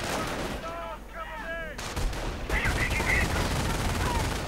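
Light machine gun fire at enemy riflemen in the Company of Heroes strategy game, loud repeated bursts mixed with other battle gunfire and explosions, a commentator's voice faintly underneath.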